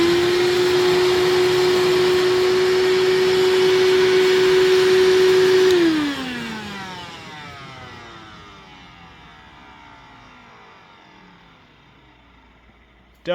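Proteam Tailvac DT 100 backpack-style vacuum with worn bearings runs loud and steady with a strong whine, then shuts off and winds down gradually over several seconds, the pitch sliding lower as the rattling motor coasts to a stop.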